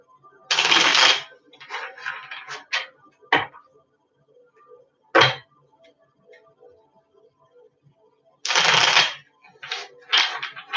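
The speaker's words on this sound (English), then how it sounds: "I'm going to shuffle 3 more times." Tarot cards riffled in a deck, with three loud bursts of shuffling at the start and end and quicker card snaps and flicks in between. No one speaks.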